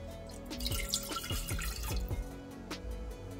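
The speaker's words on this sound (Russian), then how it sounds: "В ковшик выливаем воду." Water pours into a small saucepan for a fish marinade, a splashing, dripping stream with irregular drops against the metal, close and moderately quiet, no talking.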